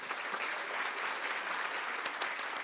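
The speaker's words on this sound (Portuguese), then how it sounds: "Uma salva de palmas, senhoras e senhores." Audience applause for a speaker taking the stage at a talk on empathetic leadership; dense, even clapping from a crowd filling the room, sustained throughout.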